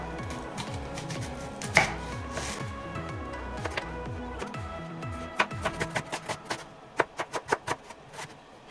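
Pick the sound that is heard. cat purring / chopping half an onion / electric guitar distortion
chopping half an onion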